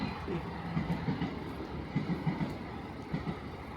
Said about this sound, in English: B train on the express track.